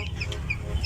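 A chicken gives a short, soft cluck, close by and brief, over a low background rumble.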